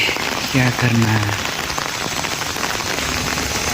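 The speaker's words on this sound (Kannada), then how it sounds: "ಜಿನಿ ಜಿನಿ ಮಳೆ ಬರ್ತಾನೇ ಇದೆ" Steady light rain falling and pattering on surfaces in Maharashtra, with a brief voice speaking near the start.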